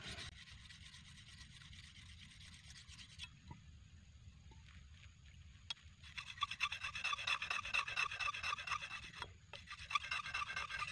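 A rubber-tapping knife blade being honed smooth, giving a soft, steady rasping rub that starts faint and grows denser and louder in the second half, with a few small knocks along the way.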